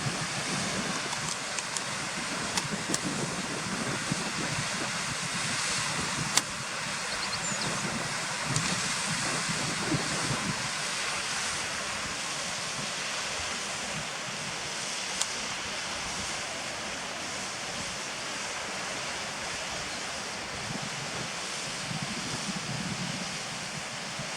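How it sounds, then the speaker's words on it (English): Steady, broad rushing water roars continuously from a distance, a dense unbroken wash of sound with no voices. "And there's a nice waterfall below."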